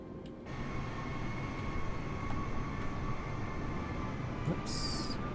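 Airbus A320neo in Microsoft Flight Simulator descending on the glide slope, a steady cabin engine roar with a constant whine, with a short electronic chime near the end.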